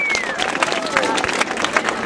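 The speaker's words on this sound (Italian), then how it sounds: "Adesso un applauso al signor Giardina." Brief burst of audience applause at a Holocaust Remembrance Day event, a dense clapping crowd with a murmur of voices and a faint whistle-like tone gliding through it.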